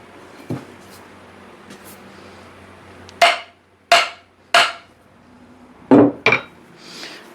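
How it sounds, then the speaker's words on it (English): A heavy hammer strikes metal on a build, five sharp ringing blows in two groups after a quiet stretch, each impact loud and close with a short decaying clang. "hammering on this does dent it up a little bit"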